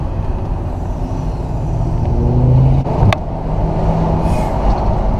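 A Mercedes CLK convertible's engine accelerates with a steady, loud roar from inside the car, holding a rising note with a brief dip and shift near the middle.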